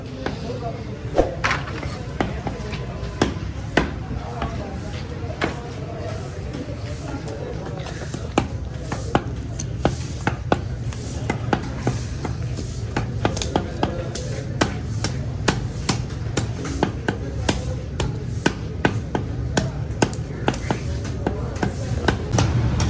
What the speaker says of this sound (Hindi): ये सफाई हो रही है फ़िश की